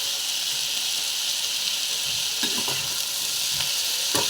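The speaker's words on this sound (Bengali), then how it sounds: "সবগুলো আলু আর বেগুন তেলের মধ্যে আমার দেওয়া হয়ে গেছে। এগুলোকে একটু হালকা করে নেড়ে" Potatoes and eggplant fry in oil for a gima chorchori, giving a dense, constant hiss and sizzle that stays near and loud, with a few soft knocks from stirring toward the end.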